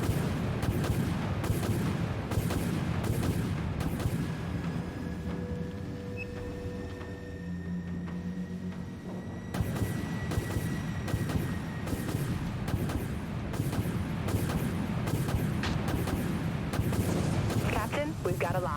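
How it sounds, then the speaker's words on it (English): Torpedo and missile launches in the video game Dread, a dense, rhythmic run of heavy launch blasts and booms, pausing briefly midway with a humming lull before the volleys resume, all loud and close. "Torpedoes locked on, aye. Launch torpedoes."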